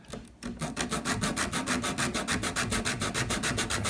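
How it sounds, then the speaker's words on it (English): Steady back-and-forth rasping of 80 grit sandpaper on a sanding block against wood, in even rhythmic strokes about four per second, close and fairly loud. "Now I have some 80 grit sandpaper on my sanding block here."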